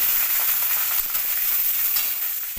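Tengra fish frying in hot oil in a wok, a steady, loud sizzle and hiss that runs unbroken and close throughout, with no voices.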